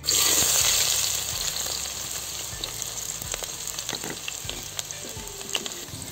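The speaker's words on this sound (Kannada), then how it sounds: "ಎಣ್ಣೆ ಕಾದಿದೆ. ಈರುಳ್ಳಿ ಹಾಕ್ತಾಯಿದ್ದೀನಿ." Chopped onions hit hot oil in a pan for egg masala curry, erupting into a loud sizzle that slowly settles into a steady crackle with occasional sharp pops and light stirring clicks.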